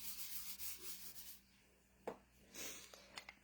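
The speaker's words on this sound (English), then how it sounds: "I'm going to use the embossing buddy." An embossing buddy pad is rubbed over card stock in quick, close, soft brushing strokes, with a small tap in the middle and faint scrapes near the end, all quiet and with no talk.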